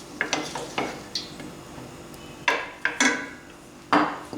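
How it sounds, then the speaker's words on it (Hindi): Chicken pieces, half a kilo, go into a pot of oil and garlic for Lahori murgh cholay, with scattered metallic clanks and scrapes of a spoon against the pot over a faint sizzle, no talking. "अब हमने ये चिकन इसके अंदर डाल देंगे"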